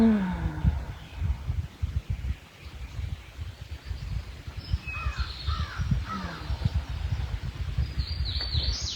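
Outdoor spring birds call, with crow-like caws and scattered chirps rising over a constant low rumble of background noise, moderately distant and repeated through the whole stretch.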